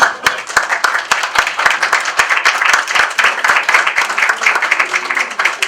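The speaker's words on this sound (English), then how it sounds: "I think we owe both speakers a round of applause" Audience at a sanctuary cities debate Q and A applauding the speakers, steady dense clapping from many hands, loud and close, continuing throughout without talk.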